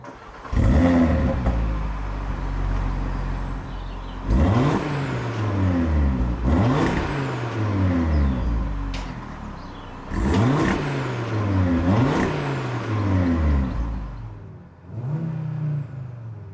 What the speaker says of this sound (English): let's see what this 5-cylinder sounds like